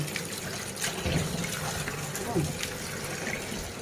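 Water splashes and trickles as vegetables are washed by hand in a bowl, a close, continuous sloshing heard under a speaking voice.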